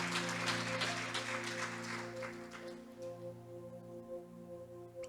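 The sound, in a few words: congregation applauding during a church sermon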